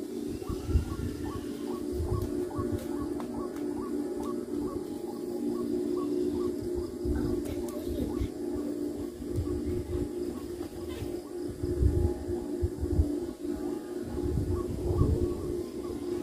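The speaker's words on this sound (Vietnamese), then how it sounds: "Này kêu sáo diều kêu rất to các bạn nhé." Kite flutes whistle loudly in a night sky, a steady wavering hum with repeating warbled tones under wind-like rumble and occasional thumps.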